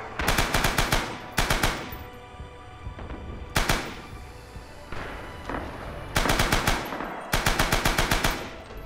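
Bursts of Japanese machine gun fire in the World War II shooter Rising Storm, several loud rapid strings of shots separated by short pauses, with fainter distant gunfire in between.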